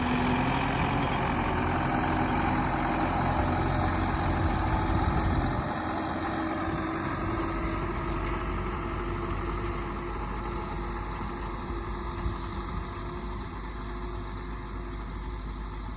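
A tractor engine idling steadily with a heavy low rumble for the whole stretch while the sprayer tank mixes a sunflower fertilizer solution out in a field, with no talking.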